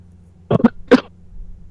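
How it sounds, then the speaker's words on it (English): Someone coughs close to the mic in a quick burst of three harsh coughs, loud against near silence. "Didn't realize you were coughing your lungs out"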